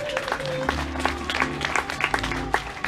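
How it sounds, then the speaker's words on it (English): Audience at a Polynesian canoe pageant show clapping in a brief scattered burst over background music, with voices mixed in. "how about a big round of applause for a young Polynesian maiden and her handsome canoe paddler today?"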